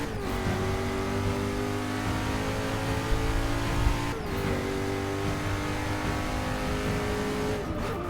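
A Koenigsegg Agera police car races the Sebring short course in a video game. Its engine holds a steady, loud, high-pitched drone, with brief gear-shift dips near the middle and end, and no one speaks.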